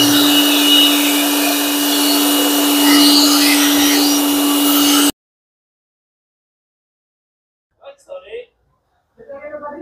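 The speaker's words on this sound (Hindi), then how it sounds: "इसको पहले क्लीन करना पड़ेगा, ब्लोअर से पहले मार के इससे बाहर निकालता हूं" A loud air blower hisses steadily and close as it cleans the AC condenser of a Toyota Innova in a workshop, cutting off abruptly, then someone speaks briefly in the quiet.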